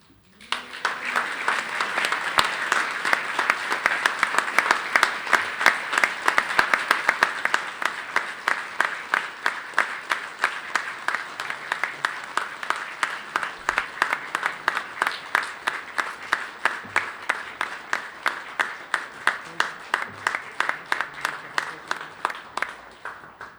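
Audience applause at the Borders College graduation ceremony swells to a dense, sustained roar, then slowly thins into steadier, more rhythmic individual claps toward the end.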